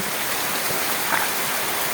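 Dense, steady roar of heavy rain pouring down, a constant broadband wash with no pauses.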